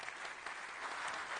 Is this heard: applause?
yes